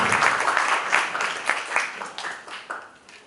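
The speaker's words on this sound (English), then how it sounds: "And a warm applause to our esteemed speaker, Mr. Mamoon Al-Azami." An audience claps together in a warm round of applause that gradually fades, with a few voices mixed in.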